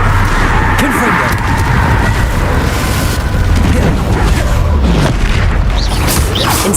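Booming blasts of the Confringo spell in Hogwarts Legacy, loud dense explosive thumps and crackling bursts repeating throughout, with a voice talking over the chaos.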